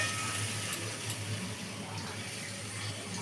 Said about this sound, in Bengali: এবার আমি সামান্য অল্প একটু জল দেবো